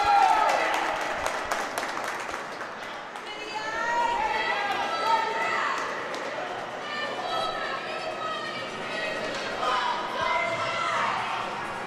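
Fans cheer and clap at a youth ice hockey game between East Islip Black and Northport/Huntington Gold as a power play is called, a broad crowd roar under continuous commentator talk.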